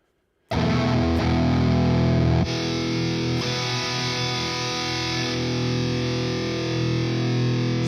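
A heavy, distorted metal guitar tone through the OVERLOUD TH-U amp simulator with plate reverb and a split setup: a loud chord is struck, then a second one rings out and sustains thickly for several seconds.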